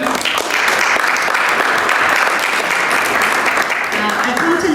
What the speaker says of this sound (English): Can we get a round of applause for the OCI team?